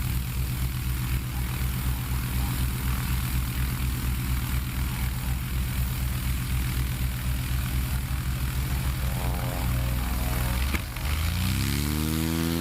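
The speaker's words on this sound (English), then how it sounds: "little bit of backfiring action there, but that's all right. He's full throttle." A STOL aircraft's propeller engine runs at full throttle during a Heritage STOL competition in Virginia Beach, a loud steady droning buzz whose pitch shifts sharply near the end as it passes by.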